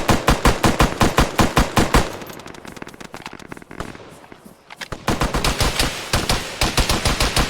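Loud, rapid automatic gunfire in the video game Arma 3 hammers in fast regular bursts, then drops into a quieter lull before the sustained rattling fire resumes at full strength.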